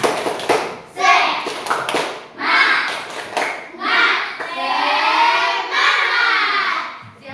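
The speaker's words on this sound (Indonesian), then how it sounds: "coba tepuk semangat dulu sekali lagi" Children perform a rhythmic group clapping chant in a classroom, with bursts of claps followed by sung or shouted chanting phrases, loud and close.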